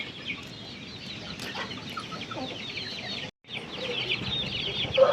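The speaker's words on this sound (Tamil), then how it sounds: "இதோ நம்மளுடைய ஷெட்டில் இருக்கக்கூடிய கொஞ்சம் வளர்ந்த சேவலுங்க இதெல்லாம்." Young roosters, several months old, cluck and call steadily inside a farm shed. The fowl chatter is dense and continuous at moderate distance, with no talking.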